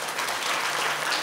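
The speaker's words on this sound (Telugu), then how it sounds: "ఒకసారి రాకమచర్ల వెంకటదాస్ గారి క్లాప్స్ కొట్టండి." Audience at a devotional bhajan gathering claps for a singer, a brief dense burst of applause at close range.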